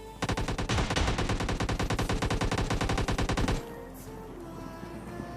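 Automatic gunfire in a battle royale video game: a long, rapid, loud burst of evenly spaced shots that stops abruptly, leaving quieter background game noise.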